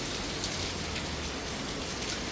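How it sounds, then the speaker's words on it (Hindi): Heavy monsoon rain pours down in a dense, continuous hiss of drops drumming on surfaces, loud and unbroken throughout with no voices. "इतनी तेज़ बारिश हो रही है"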